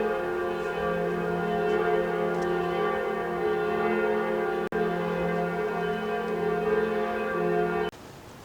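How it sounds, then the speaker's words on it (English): Church bells ring out across Munich, a sustained chiming from several distant towers that overlap and keep sounding, with one brief cut before the tone gives way to quieter ambience near the end. "probably dozens of cathedrals up here and we can kind of hear them all chiming, but none of them are at the same time"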